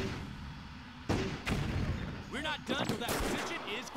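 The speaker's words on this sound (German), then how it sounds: "Oh Gott, Mörser." Mortar blasts and gunfire in the World War II strategy video game Blitzkrieg 2, with loud booming impacts and crackling shots over continuous battle noise and a short burst of a higher-pitched whistling sound.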